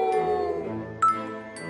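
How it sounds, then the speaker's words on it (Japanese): A wolf howls in the Red Riding Hood forest escape video game: a long, steady tonal howl under a music-like background, with brief chime-like accents later. "今のは狼の遠吠え？"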